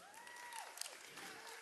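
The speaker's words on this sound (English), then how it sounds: "give yourselves a clap if you're here." Faint, distant clapping from an audience at a women in leadership event, with a murmur of crowd noise and some talk mixed in over a short stretch.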